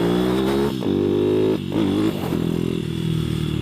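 A Masai Scrambler 125cc motorcycle ridden along, its engine droning steadily with a few short drops and rises in pitch as the rider shifts or eases off the throttle, close and fairly loud.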